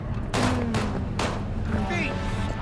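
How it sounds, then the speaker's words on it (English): Gunfire in a video game: three loud, sharp shots spaced about half a second apart, each with a short echoing tail, over steady game background noise. "Oh, they're shooting in here."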